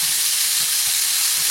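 A scallop sears in a hot pan just after being flipped, giving a steady close sizzle and hiss that runs unbroken throughout with no voices.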